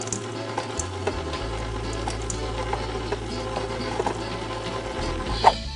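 A stand mixer runs on slow, mixing dry ingredients into a maple syrup energy bar batter, giving a steady low motor whir with light clicks and rattles, close up and without talk.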